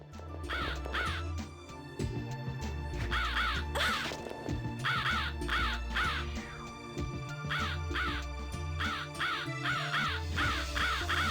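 Crows in The Ring: Terror's Realm video game caw relentlessly in loud, grating volleys for several seconds, layered over steady low game music and thuds.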